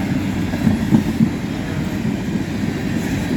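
A long Wisconsin Central freight train rumbles steadily past nearby, low and continuous, with faint rhythmic clatter of wheels over the rails.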